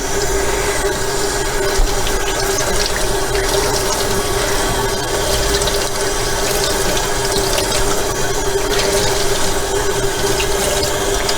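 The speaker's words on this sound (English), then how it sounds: "you're going to run it under the cold water until it runs pretty much clear" Cold tap water runs steadily as tie-dyed fabric is rinsed under it, a loud, continuous rushing splash close by with no talk.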